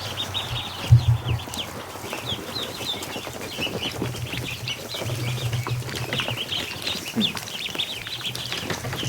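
Many freshly hatched ducklings peep in a steady, busy chatter of high, thin calls, with a few louder chirps standing out. The chorus sits fairly close over a low background hum, and nobody speaks.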